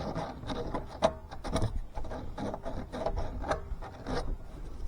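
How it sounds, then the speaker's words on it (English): Sandpaper filing down loose burrs on a DIY water collection build, a steady close scraping rasp with repeated back-and-forth strokes of moderate loudness and no talking. "We're just gonna file, smooth down them loose burrs."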